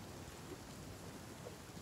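Steady rain hiss in The Flame in the Flood, a broadband wash filling the whole clip at low level with no talk over it.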